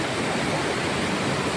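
The Rawa river, a mountain stream in hill country, rushes in a steady, dense, uninterrupted flow of water, with no voices.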